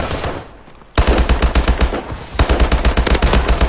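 Submachine gun in Call of Duty Advanced Warfare gun game, two loud rapid-fire bursts after a brief quieter moment, close and punchy with dense rattling shots.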